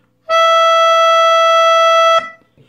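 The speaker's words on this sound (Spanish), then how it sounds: "la nota Mi agudo que aprendimos en la clase pasada con la canción Estrellita" A melodica plays one high E, a bright reedy note that starts abruptly, holds steady and loud for about two seconds, then cuts off cleanly, leaving near silence with a faint soft knock afterward.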